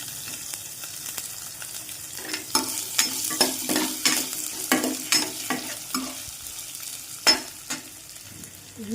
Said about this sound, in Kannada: ಈಗ ಆನಿಯನ್ ಹಾಕ್ತಾಯಿದ್ದೀನಿ.